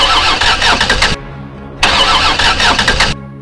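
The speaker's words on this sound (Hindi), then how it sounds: "राहुल बहुत बार गाड़ी स्टार्ट करने की कोशिश करता है, मगर हर कोशिश बेकार जाती है।" A car engine cranks but fails to start, two loud bursts of rapid, rhythmic churning separated by a short pause, each cutting off abruptly without catching.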